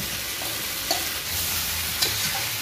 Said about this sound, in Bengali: আলু দিয়ে আর 2 মিনিট খুব ভালো করে কষিয়ে নেব।